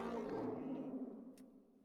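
A feathered Anzu dinosaur in the Roblox-style game Dinosaur Simulator gives a single deep, growling roar that swells and then fades out over about two seconds, heard alone without talk.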